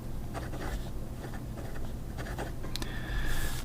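A Dieman A7 fountain pen in blue stabilized wood with a fine nib scratches across paper in short, close strokes, with light rustles and a faint squeak near the end.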